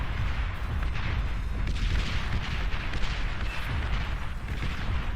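Relentless artillery barrages in the real-time strategy game Beyond All Reason roar as a dense, continuous rumble of overlapping booms and blasts, loud and steady from start to finish with no speech.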